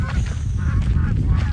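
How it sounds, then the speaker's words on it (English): Geese honking repeatedly in a noisy cluster while a bird dog chases them on an outdoor run, with wind and some background noise under the calls. "Chasing the geese."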